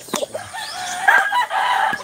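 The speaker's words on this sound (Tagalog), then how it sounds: "Ayan po yung mga panabong niya," Gamecocks, fighting roosters kept in a yard, clucking in short bursts followed by a rising crow, close and fairly loud.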